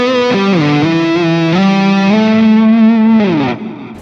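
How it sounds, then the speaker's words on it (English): An electric guitar plays a sustained, distorted lead line from an Axe-Fx patch, a few held notes sliding between pitches under a big, lush reverb, loud and close, then fading as the last note is released. "we've got a variation on that lead sound with a big sort of luscious reverb"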